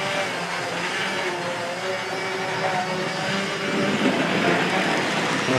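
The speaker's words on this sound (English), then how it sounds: "I can actually hear the polishing pad, still hear it on the rail" A Dapol model railway track-cleaning wagon runs along the rail, its polishing pad and vacuum fan giving a steady, close whirring and grinding hum that swells slightly toward the end, with no voices.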